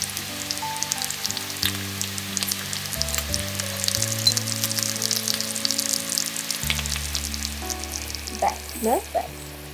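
Mutton for kala bhuna is sautéed in a pan with sour water, giving a loud, sustained sizzle and frying crackle over soft background music, with a brief voice near the end.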